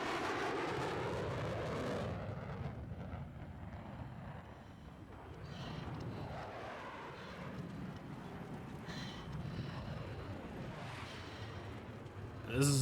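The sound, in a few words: jet aircraft flying in a video game match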